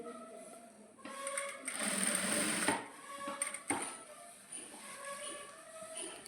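A sewing machine stitching the centre piece of a dress, whirring in short runs with a louder stretch in the middle and a few clicks between bursts, close up and without talk.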